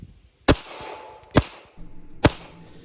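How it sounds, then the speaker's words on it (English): A pistol magazine is swapped in a tactical pocket reload: three sharp, close metallic clacks spaced about a second apart, with nothing else but quiet room tone between them. "Tactical pocket reload, because I'm high speed like that."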